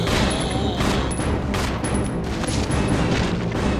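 Rapid bursts of gunfire from the Resident Evil Zero video game on GameCube, dense and loud, with overlapping shots and booms filling the whole stretch without talk.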